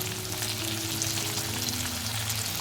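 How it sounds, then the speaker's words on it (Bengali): Green mango pieces fry in a pan with turmeric, a dense, even sizzle that holds steady and close throughout the short stretch, with no speech. "ভেজে নেব আমগুলোকে।"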